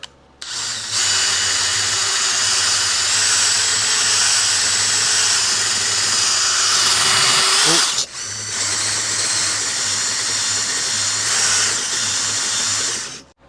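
A power-driven hone whirring steadily inside Honda CB350 engine cylinders, a loud continuous drill-like whine that stops briefly midway, then resumes before cutting off.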